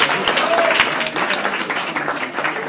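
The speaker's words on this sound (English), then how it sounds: "Give all of our recipients another round of applause." An audience claps for award recipients at a Southfield Public Schools board meeting, a close, loud burst of many hands that holds steady and thins slightly toward the end.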